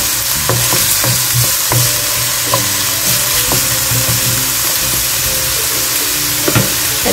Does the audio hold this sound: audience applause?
no